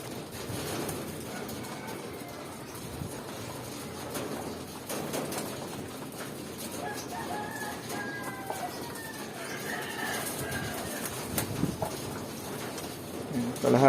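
Pigeons coo softly in short repeated phrases while being fed, fairly faint, with bird calls and light shuffling sounds across a quiet background.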